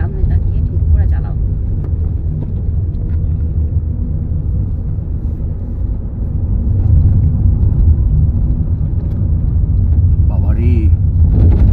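A car climbing a hill road toward Namchi gives a steady low engine rumble that continues throughout, loud and close from inside the cabin, with people talking over it now and then.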